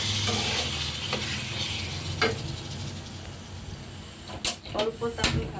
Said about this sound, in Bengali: তেলের মধ্যে এখন মুরগির মাংসগুলো ভেজে নিব।